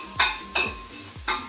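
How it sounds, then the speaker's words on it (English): A spoon sweeps through a pan in three rhythmic strokes as turmeric is stirred into frying garlic and ginger, each stroke a close scrape with a light sizzle underneath. "So turmeric going in now, working with your garlic and your ginger."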